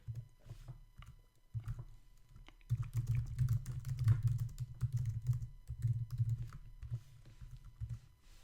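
Steady typing on a computer keyboard, with close, soft, irregular key taps that come in quick bursts and brief pauses. The typing is quiet and alone, with no talk.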